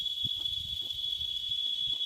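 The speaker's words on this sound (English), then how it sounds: "My, the cicadas are pretty loud today." Cicadas drone loudly outdoors as a steady, unbroken high-pitched buzz running through the whole stretch, with faint low rumbling beneath.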